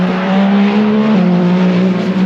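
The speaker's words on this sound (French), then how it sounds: "Et le passage de la BMW numéro 20." BMW race car number 20 at the 24 Hours of Le Mans, a loud, close, sustained engine drone with a steady pitch that dips slightly as the car goes past.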